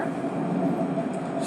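Train noise at a Jamaican railway station around Christmas, a steady broad rumble and hum with faint voices mixed into the busy platform ambience.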